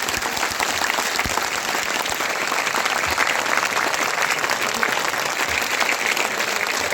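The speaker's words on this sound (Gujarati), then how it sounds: "એક વાર જોરદાર તાળીઓ પડે ને ખબર પડે તમે બધા." A large crowd at a Thakor community political rally with an MLA claps loudly and continuously, a dense sustained roar of hands with faint voices mixed underneath.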